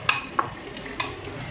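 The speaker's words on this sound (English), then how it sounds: "Now I will add the finely chopped tomatoes." Finely chopped tomatoes go into a frying pan of sautéed ginger-garlic masala for Punjabi-style rajma. A soft, steady sizzle runs under a few sharp scraping stirs.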